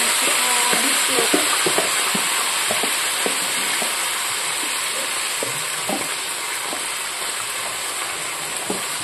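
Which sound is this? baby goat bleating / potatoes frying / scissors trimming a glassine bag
potatoes frying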